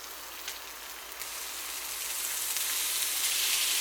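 Pork mince browning in a hot wok for a noodle stir fry gives a steady, dense sizzle that builds in loudness and hiss over a few seconds, with no voices.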